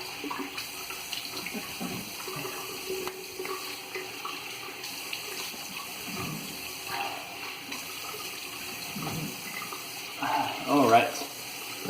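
Running tap water rinses after a wet shave with a Semogue 830 brush and VDH Deluxe soap, a steady close splash and trickle lasting throughout, with a brief louder splashing burst near the end.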